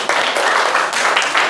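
A classroom group gives a short burst of dense, lively applause that runs steadily for about a second and a half, with no talk over it.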